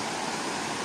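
Waterfall at Complexo Paraíso in Delfinópolis, Brazil, a steady, dense rush of falling water, loud and close for under a second.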